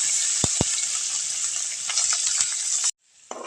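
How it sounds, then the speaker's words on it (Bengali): Puti fish sizzling hard in hot oil in a wok, a steady loud crackle with a couple of brief clinks, cut off abruptly near the end before a quieter hiss resumes. "তেলটা গরম হয়ে গেছে, এখন আমি মাছগুলো দিয়ে দিতেছি।"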